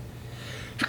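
One quick, sharp sneeze from a person nearby, fairly soft, bursts out at the end after a stretch of low background hum.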